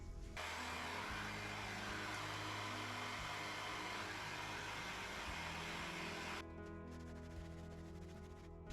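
A continuous whooshing blower drone of a dryer drying paint on an abstract painting, steady and fairly loud, then it cuts to a quieter hum near the end.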